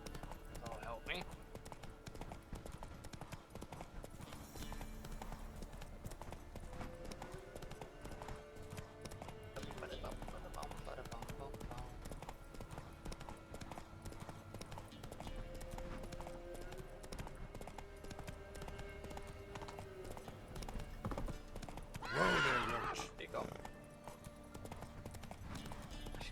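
Horse hooves clip-clopping at a steady riding gait in The Witcher 3, with a few whinnies mixed in under game music and sounds, while a player talks over it.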